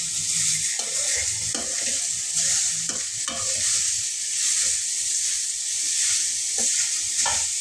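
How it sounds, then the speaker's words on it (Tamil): Masala oats are stirred in a pan over a loud, constant sizzle, with repeated close scraping strokes of a spoon across the pan in an uneven rhythm. "கொஞ்சம் நம்ம நல்லா கிளறி விட்டுறலாம்."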